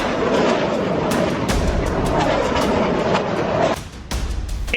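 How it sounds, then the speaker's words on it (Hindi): Gunfire and artillery fire along the Thailand-Cambodia border during open war, a dense, loud, continuous barrage of rattling shots and booming thuds that drops off sharply near the end. "गोलियों की तड़तड़ाहट, तोपों की गड़गड़ाहट और विमानों की गूंज"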